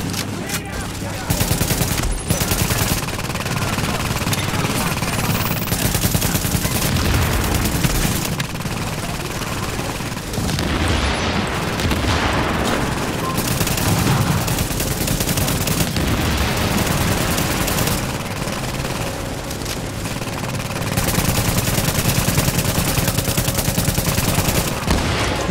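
Heavy machine gun fire in the video game The Division, dense sustained bursts and rattling gunfire mixed with explosions and game effects, loud throughout, with a voice talking at times over the shooting.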